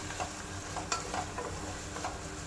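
Spices sauté in a pan for chicken pulao, a steady close sizzle with quick repeated scraping stirs and light clinks of the spatula, quiet overall and free of talk.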